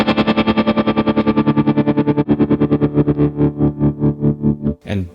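Electric guitar through an AS Pedals Tremuntana tremolo pedal with depth fully up, a sustained chord chopped into rapid, even pulses that slow slightly toward the end, loud and close with no talking.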